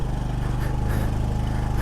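A Yamaha PG-1 motorcycle engine drones loudly and steadily under strain climbing uphill, close by, with a low rumbling, chugging tone.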